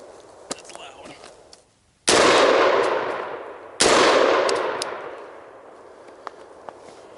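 Two loud, close gunshots from a 7.5-inch AR-15 rifle on an outdoor shooting course, each a sharp crack followed by a long rolling echo that fades over more than a second, with quiet gaps around them.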